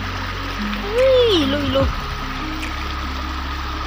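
Water runs steadily down a muddy hillside path in Sikkim with a constant trickling rush, while a person speaks briefly over it.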